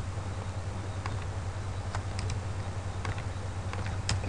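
Keys pressed on a computer keyboard, scattered clicks at an irregular pace, moderately close over a constant low hum.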